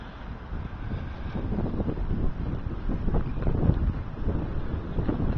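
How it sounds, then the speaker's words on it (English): Steady wind buffets the microphone outdoors during char cloth making, a continuous low rumbling roar with gusty surges and no voices. "I'm going to be fighting the wind also."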